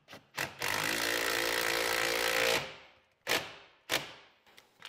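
A power driver runs a lag bolt through a spacer into wood during an Enphase IQ EV charger install, giving a loud, sustained whirring drive of about two seconds, then several short bursts.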